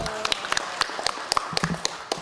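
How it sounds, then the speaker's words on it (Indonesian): Scattered applause in a parliamentary commission meeting, with a handful of separate claps ringing out at irregular intervals rather than a full ovation, fairly close and distinct. "Mas Nadiem, tepuk tangan untuk beliau"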